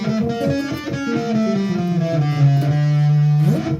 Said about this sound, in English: The way to create a really nice Doom riff is to use not the natural minor, but the harmonic minor, which sounds like this.